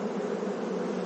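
Honey bees buzzing around their queen at a hive, a steady, dense, hissing hum held at an even level throughout, with no talk.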